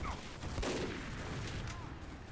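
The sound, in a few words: gunfire shooting at a sentry gun in video game Team Fortress 2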